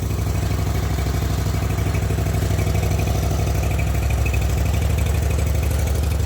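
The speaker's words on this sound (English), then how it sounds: "I'm just gonna start it up, make sure it runs okay" A zero turn mower engine runs steadily after a carburetor rebuild, a loud, close, continuous idle with an even low rumble and no voices.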